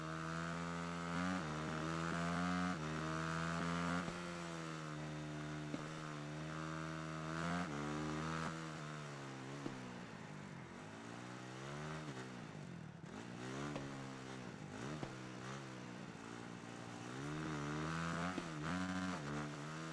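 Motorcycle engine in the racing game Ride 3, revving and accelerating continuously for about twenty seconds, loud and steady with pitch rising and falling as the bike speeds up and eases off, no talk.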